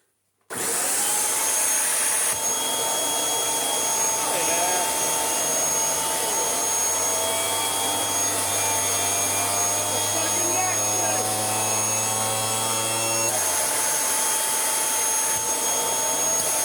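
A restored Kirby Sentria 2 home cleaning system vacuum switches on abruptly and runs with a loud, steady high-pitched whine and motor roar, its tone dropping slightly near the end before it continues.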